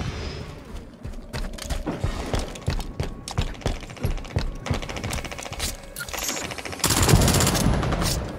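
Rapid bursts of automatic gunfire rattle through a Halo 5 multiplayer slayer match, with dense repeated shots, mechanical clatter and a louder, heavier barrage near the end.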